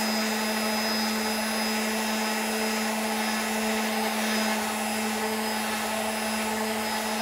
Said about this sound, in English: I'm just letting the weight of the sander,